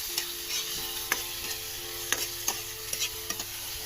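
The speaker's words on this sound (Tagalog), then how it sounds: "ilagay natin ang kamatis" Tomatoes go into garlic sautéing in a pan: a continuous oily sizzle broken by sharp clacks of a utensil stirring and scraping the pan every half second or so, close and moderately loud.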